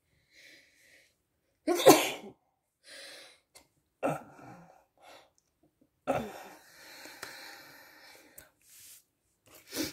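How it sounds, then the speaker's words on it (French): A sharp, loud sneeze bursts out near the start, followed by sniffs, breaths and soft throat noises in an otherwise quiet room. "Je vais éternuer"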